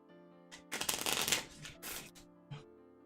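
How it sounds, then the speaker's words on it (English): A deck of cards for the fantasy board game Shadows of Kilforth being shuffled up close, a quick riffling burst followed by softer shuffles and a few light taps, with no talking. "Go shuffle it up."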